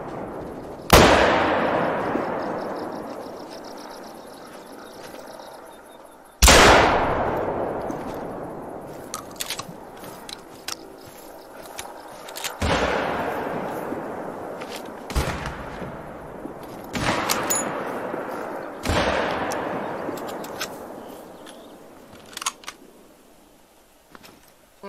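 Hunting rifle gunfire in theHunter: Call of the Wild, six loud booming shots spaced several seconds apart, each leaving a long rolling echo that fades before the next.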